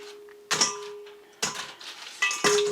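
Crisp double-fried Korean chicken wings clatter and clink into a metal bowl in three quick bursts, with a faint ringing tone lingering between them.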